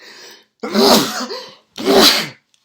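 Two loud, close sneezes in quick succession, each a sharp explosive burst with a breathy intake before the first.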